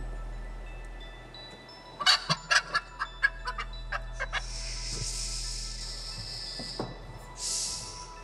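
A hen clucks in a quick run of about ten short, sharp notes, followed by a couple of broader, louder squawking calls, close by against a quiet, steady low hum.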